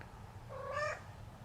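A single short meow from a domestic cat, rising and then falling, at moderate distance over a low, steady room hum.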